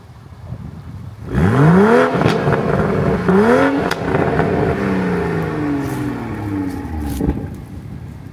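A Toyota Supra engine revs hard several times, each rise sweeping up and settling back. Sharp exhaust pops crackle between the revs, loud and close after a quiet start.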